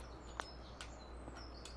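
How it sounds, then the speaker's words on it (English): Faint birds chirping in Fallout 4, a few short, high tweets over a steady low background hum. "I'd like to know where the bird sounds are coming from."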